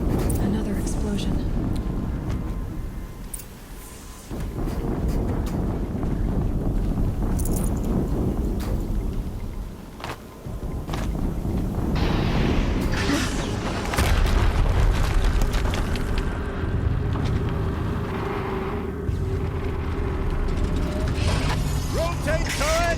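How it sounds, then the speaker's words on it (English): Explosions in the video game Horizon Zero Dawn, at Maker's End, rumble as heavy, continuous booms and mechanical clatter, with loud spoken game dialogue layered over the blasts. "Another explosion."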